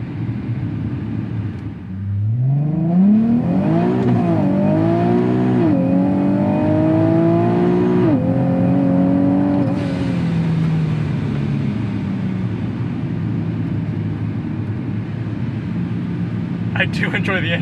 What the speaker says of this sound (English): I do enjoy the engine note though.